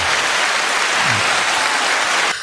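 Steady applause from many hands clapping together, loud and continuous for about two and a half seconds before cutting off abruptly at the end.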